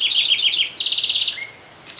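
A house wren (Troglodytes aedon) in Esperanza, Santa Fe, Argentina sings a rapid, complex run of high chirping trills close by, loud and clear, ending in a brief pause.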